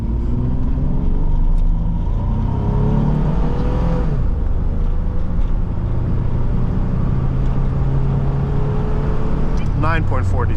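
A 2000 Chevrolet Blazer LS launches hard from a stop, its engine note climbing and rising loud from inside the cabin with road and wind roar building, while a voice speaks briefly near the end.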